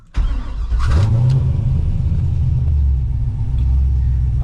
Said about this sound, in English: This car will start in gear.